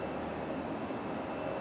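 A jet airliner takes off from the runway at Raleigh-Durham International Airport, heard as a faint, distant, steady jet-engine roar without any voices.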